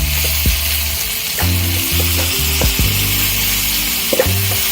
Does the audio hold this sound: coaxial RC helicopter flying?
no